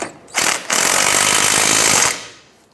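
A 16mm wrench works a ball joint nut on a 2006-2013 Chevrolet Impala front suspension, giving a loud, continuous mechanical rattle lasting about two seconds after a brief start, heard alone with no talk.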